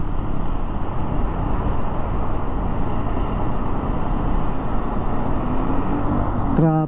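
Steady, dense roar of road traffic fills the whole stretch, broad and constant, with a brief higher-pitched engine or horn tone near the end.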